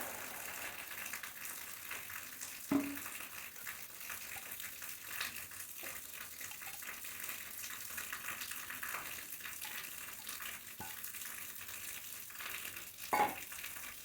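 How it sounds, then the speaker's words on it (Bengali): Water goes into a tomato fish curry simmering in a pan, making a steady sizzling, bubbling wash with a few soft clinks of a utensil against the pan. "আমি আরেকটু জল দিয়ে দেবো।"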